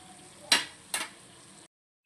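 Tempering sizzles steadily in a pan as vegetables and millets go in, with two sharp stirring bursts over the continuous fry before a brief silence.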